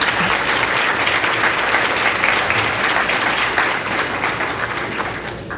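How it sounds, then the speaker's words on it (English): A large audience at a school awards ceremony for young future leaders applauds after a list of honorees is read. The clapping is thick, loud and sustained for several seconds and eases only slightly toward the end. "Now you can clap."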